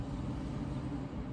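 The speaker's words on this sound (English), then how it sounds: "there's a bus going by" A bus rumbles past outside, a low muffled steady drone heard faintly from indoors with no talk over it.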